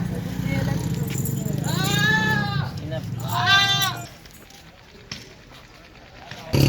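Goats and kids bleat on a goat farm, with two clear, close, wavering bleats rising over a steady rumble of background noise and talk, followed by a quieter stretch.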